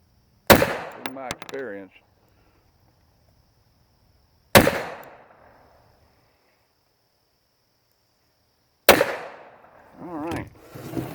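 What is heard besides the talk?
SCCY CPX 380 pistol being fired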